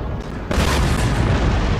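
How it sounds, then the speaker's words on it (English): Cannon fire in Empire Total War, an 18th-century battle strategy game, sets off a sudden deep boom about halfway through, and a dense rumbling roar of battle follows and holds steady and loud. "Okay, here come the cannons."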